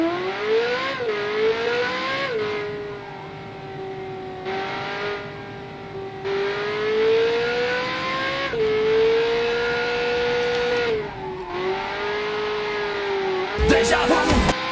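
A custom McLaren-style car in a video game: its engine drones loudly and continuously, revving up and easing off through gear changes and drifts, with a brief burst of noise near the end.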